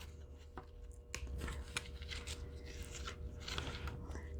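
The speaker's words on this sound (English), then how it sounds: "we're gonna use the same method with the scissors of zigzagging" Scissors snip in a zigzag pattern, giving a series of short, crisp, irregular cuts close by at low volume over a quiet background.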